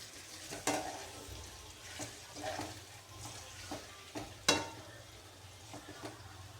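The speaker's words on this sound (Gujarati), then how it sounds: "હવે પાત્રા નાખી દઈએ। મિક્સ કરીને થોડી વાર ફ્રાય થવા દઈએ।" Patra, colocasia leaf rolls, sizzling gently in a pan while a spoon stirs them now and then, with occasional scraping knocks over a soft, steady fry.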